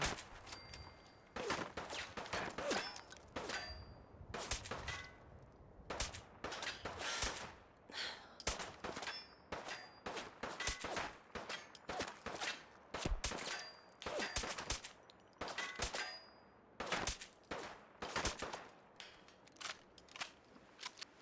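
Rifle gunfire in Fallout 4 with heavy recoil, sounding as rapid, dense bursts of shots that keep on and off through the whole stretch, loud and punchy, with almost no voice over them.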